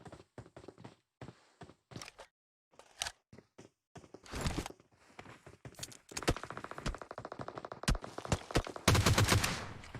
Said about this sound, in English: Hunter trying to shoot across.